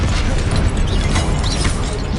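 Continuous loud blast noise from the Confringo explosive spell in Hogwarts Legacy, a dense roaring burst with crackling debris filling the whole moment, close and heavy with no talk.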